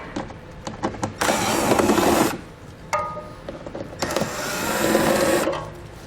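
A 5.5mm socket wrench spins off trim nuts during a Curt trailer hitch install on a 2018 Ford Edge, giving two sustained bursts of close, mechanical ratcheting whir separated by short clicks and handling noises, with no talk.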